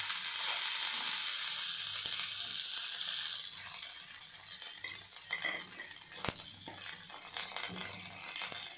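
Chana dal and curry leaves fry in hot oil with mustard seeds, giving a loud hiss that starts strong and then eases into a softer sizzle with scattered pops and utensil rattles, close up, without speech.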